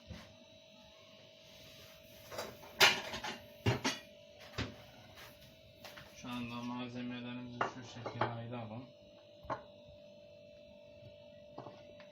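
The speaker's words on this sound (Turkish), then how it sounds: "Şuradan tabak alıyoruz." Plates are taken out in a kitchen, with sharp ceramic clinks and clatters and a cupboard knock, sparse and fairly close, alongside a voice speaking in the middle.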